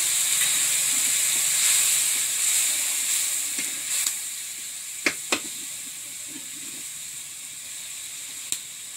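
Water poured into a hot pan during village cooking of an oyster dish gives a steady bright sizzle and hiss that slowly fades, with a few sharp clicks and knocks from the pan late on.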